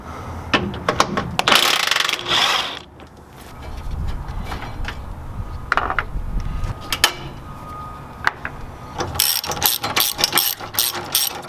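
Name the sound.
tightening bolts on truck bull bar bracket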